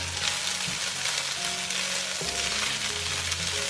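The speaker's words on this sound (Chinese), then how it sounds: "把五花肉的油逼出来之后呢，加入蒜末跟梅菜干" Pork belly stir-fried with minced garlic and dried mustard greens, a steady close sizzle of hot fat with occasional scraping and tossing in the wok, continuous and loud without any talk.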